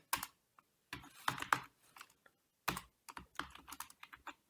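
Code is typed on a computer keyboard in short, uneven bursts of close, soft key clicks with brief pauses, quiet and with no talk.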